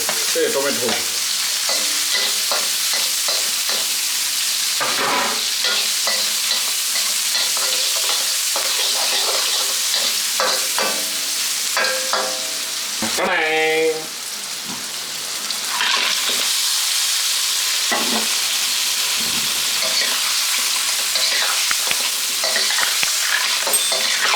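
Onion, chili and tomato frying for a Sri Lankan crab curry: a loud, continuous hiss in the pan with repeated stirring scrapes and clatters, and a brief quieter gap midway before the sizzle surges back.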